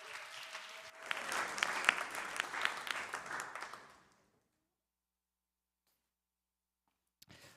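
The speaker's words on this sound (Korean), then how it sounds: "박수 주실까요?" A church youth audience claps for an election candidate, a burst of applause that builds for about three seconds then stops abruptly into silence.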